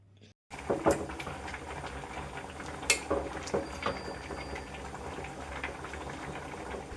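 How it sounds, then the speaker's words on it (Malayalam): Clams simmer in a pot of water on the stove, a soft continuous bubbling broken by occasional light clinks of the pot. "എന്നിട്ട് നമുക്കിത് തിളപ്പിക്കാനായിട്ട് വയ്ക്കാം"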